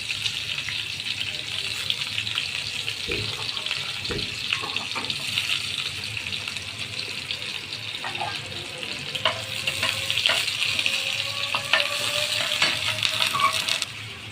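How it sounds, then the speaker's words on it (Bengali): Chopped onions and chillies fry in a frying pan with a steady, close sizzle. Occasional light clinks from a utensil sound throughout, and no one speaks. "আমার পেঁয়াজ কুচিটা ভাজা হয়ে গেছে"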